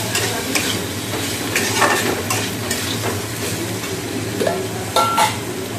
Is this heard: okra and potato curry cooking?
yes